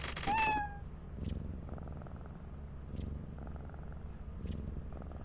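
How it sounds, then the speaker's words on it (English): A cat in the Lethal Company video game gives one clear, rising meow, then settles into a soft, low, steady purr that continues quietly to the end. "when I swapped to you, Cody, all I heard was the cat going, "Ow.""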